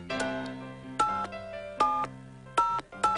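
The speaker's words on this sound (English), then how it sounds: "Dialing music, please." Telephone dialing tones play as a series of separate, clear electronic beeps of varying pitch, each short and evenly spaced, loud and alone with no talking.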